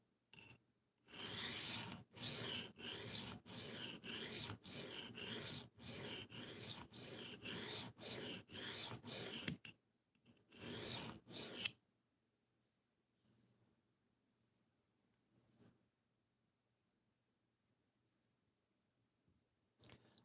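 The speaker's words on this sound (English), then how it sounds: "We're sharpening a Spyderco Persistence." Spyderco Persistence knife being sharpened, a rapid run of about a dozen rhythmic scraping strokes up close, a short pause, a couple more strokes, then near silence with faint small clicks.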